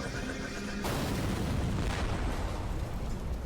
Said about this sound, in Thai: โอ้โห ระเบิดก็ทำไรพีโดไม่ได้นะครับ